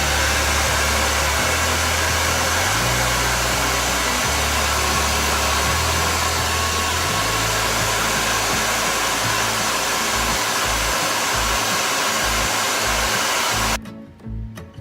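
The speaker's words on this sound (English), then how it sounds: "So I'm going to now get my blow dryer to blow dry it down." A blow dryer held down on a lace closure roars loudly and steadily at close range, its pitch shifting a few times, then cuts off near the end, with no one talking.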